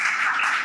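Audience clapping during a lecture on Vedic mathematics in a college hall, a steady, dense burst of applause.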